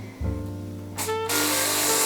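A handheld plant mister sprays continuously over houseplants set in a bathtub, a steady loud hiss that starts abruptly and holds, after a few short clicks and a brief burst.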